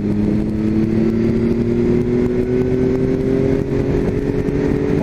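A Triumph Tiger 1200 Alpine Edition motorcycle engine pulls hard and steady in fourth gear, its pitch climbing slowly as it accelerates, loud and close with no voices.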